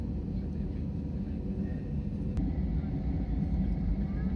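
Airliner pushing back and taxiing at Heathrow before takeoff: a steady, loud low engine rumble and cabin drone throughout, with one brief click partway through.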